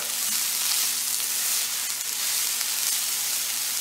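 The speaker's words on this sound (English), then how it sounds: "I'm just going to cook this for a couple of minutes until those onions are getting translucent" Onions and sausage fry in a pan with a steady, dense sizzle that holds evenly at close range throughout, with no voices.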